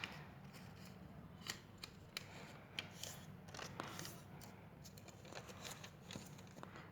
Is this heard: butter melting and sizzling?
no